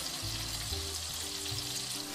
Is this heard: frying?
yes